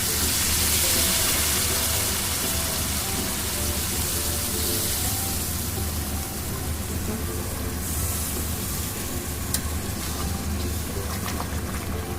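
Hot fish broth is poured into a pan with tomatoes for a mirka fish curry, a dense steady rushing hiss of liquid hitting the hot pan that carries on throughout, with no talk.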